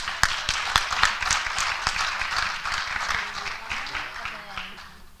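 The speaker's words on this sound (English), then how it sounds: "let's give him another clap" Audience applause at a Founders' Day celebration: steady, dense clapping from a crowd that lasts several seconds, with a few sharp nearby claps and faint voices underneath.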